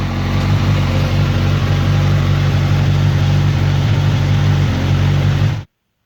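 A Suzuki GSX-S 1000F motorcycle engine idling just after an oil change, a loud, steady close-up rumble with an even throb that holds for over five seconds and then stops abruptly.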